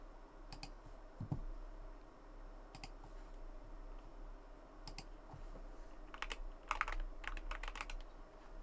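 Bursts of clicky computer-keyboard typing come and go over a faint background hum, with short clusters of keystrokes and a quicker flurry near the end.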